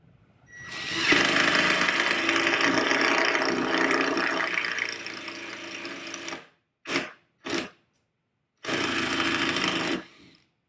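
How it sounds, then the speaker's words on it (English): Impact driver sinking a screw into wood, a loud, dense rattling hammer lasting about five seconds, followed by two brief bursts and a final two-second run. "That's the sound of the impact driver beating the screw into the wood as it drills it in."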